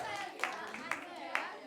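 During a children's church worship lesson, voices sing or chant while three sharp, evenly spaced claps ring out over them.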